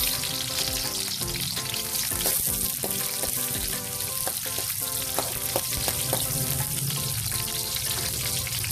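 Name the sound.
garlic and onion frying in a pan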